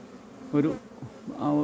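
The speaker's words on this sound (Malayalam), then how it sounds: "തേനീച്ചകൾ കയറുന്നു." Honeybees buzz softly as they fly into their hive box while bringing in pollen, a faint, brief hum that swells in two short waves.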